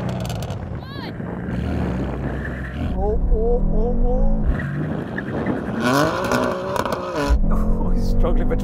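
A rear-wheel-drive car, an estate at a drag race, does donuts to warm its tyres, with the engine revving and the tyres squealing over a continuous roar while people talk.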